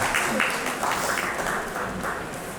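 An audience at the Bapu Ramana award ceremony applauds in a dense, steady wash of clapping that holds for about three seconds with a little murmuring mixed in.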